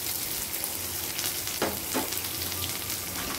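Chopped onions and curry leaves sizzle and fry in hot oil, a steady crackling hiss with a couple of brief stirring scrapes partway through.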